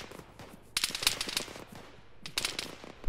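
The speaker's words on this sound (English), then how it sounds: "Pretty heavy fire coming in from the southwest there." Heavy incoming fire in a military video game, coming from the southwest: dense, crackling bursts of automatic gunfire at mid distance, rising and falling in two loud clusters over a low battle rumble.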